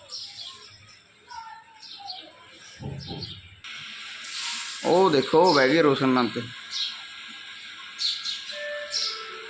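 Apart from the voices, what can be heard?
sparrows chirping at nest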